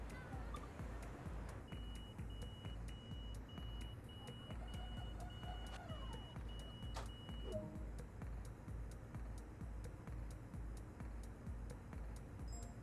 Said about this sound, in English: time to lock the doors